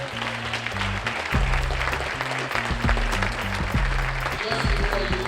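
An audience applauds the healer Dr. Sebi at the close of his talk; continuous clapping throughout, with low tonal music or hum underneath.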